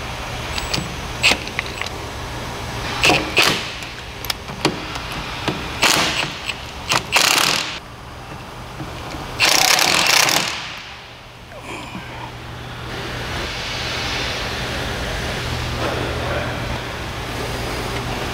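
A pump shaft coupler being tightened on an Etnyre asphalt distributor: scattered close metallic clicks, clanks and tool rattles, then a steady machine hum in the background.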